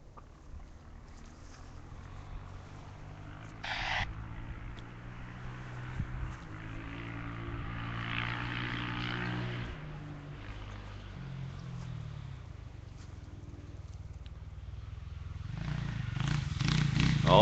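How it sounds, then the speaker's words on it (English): Rally motorcycles on a stage of the 2013 Sandblast Rally approach over a hill, a distant droning engine hum that rises and wavers in pitch before swelling louder toward the end amid light wind. "Oh, I hear some more motorcycles coming up over the hill."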